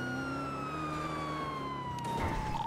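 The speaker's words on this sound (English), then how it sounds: "Sirens? Sirens." Police car siren in the game GTA V on a NoPixel roleplay server: a loud, sustained wailing tone that glides slowly downward and holds steady for the whole stretch, with no talking.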